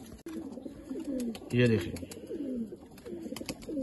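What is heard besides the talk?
old-breed Jaunsari pigeons cooing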